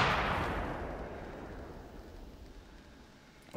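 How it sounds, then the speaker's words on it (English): Party poppers fired in a video game go off as a single sharp burst that rings out and decays over several seconds, loud at first and fading, with no talking. "I'm just firing party poppers at them, and they fall over with excitement"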